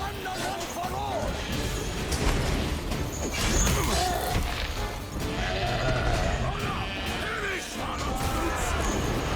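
Sheep bleating amid combat in The Witcher 3: Wild Hunt Blood and Wine, wavering bleats mixed with crashes, thuds and clattering effects, with voices speaking over much of the scene.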